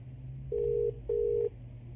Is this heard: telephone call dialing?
yes